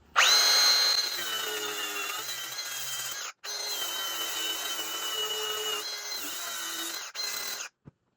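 A power tool cuts rear suspension link parts clamped in a vise, a sustained high whining grind in two long passes with a short break between them, ending in a few brief bursts.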